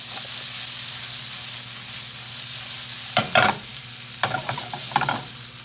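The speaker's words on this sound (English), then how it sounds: "That whole garlic clove and that chopped tomato. Give it a toss." Shallot, a whole garlic clove and chopped tomato hiss in a pan for an Italian egg drop soup, a steady sizzle broken by three brief bursts of tossing and rattling in the second half.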